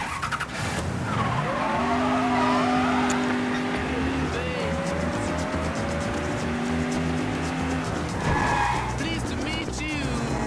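Car driving and skidding in the game Mafia III, a continuous engine drone with rising and falling revs and repeated tire squeals, loud and near, with game music beneath.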